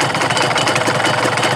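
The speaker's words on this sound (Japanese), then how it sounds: "エンジン始動性良好でございます。" A Honda NSR250R MC28 two-stroke motorcycle engine idles close up, a steady, raspy, buzzing rattle with fast pulsing, loud and alone.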